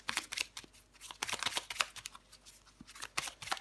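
Tarot cards being shuffled and drawn close up, a quiet series of quick crisp riffling flicks and slaps in irregular bursts, no talking.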